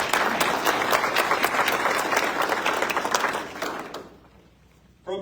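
Audience applause welcoming guests at a military assumption of command ceremony: steady, dense clapping from a large crowd for about four seconds, then fading out into near silence.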